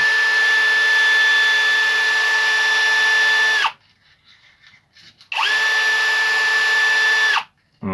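A rotary power tool sands a bullet-cartridge bead on a knife lanyard, whining loudly at a steady high pitch in two long bursts separated by a short quiet gap, no talk.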